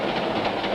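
A cartoon train rumbles along its tracks with a soft, continuous rolling clatter, brief and fairly quiet, no voices.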